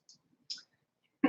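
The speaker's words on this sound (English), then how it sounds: "I'm clicking as fast as I can." Computer mouse clicks, a few faint separate clicks spaced apart in a quiet room, followed by a brief louder burst at the end.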